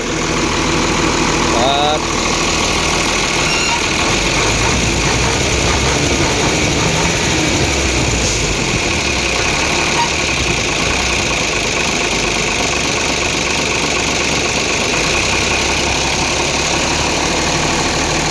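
A big Nissan engine idles at a roadside garage, a steady dense rumble running throughout with people talking over it and faint chirps in the background.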